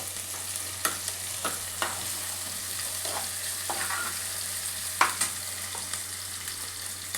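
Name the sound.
frying ginger garlic paste in a pan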